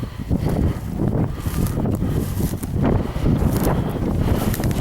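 Wind gusts hard against the microphone on a hillside ascent of 'Scurran near Crieff, a loud, continuous rumbling buffet that swells and dips with no other sound standing out.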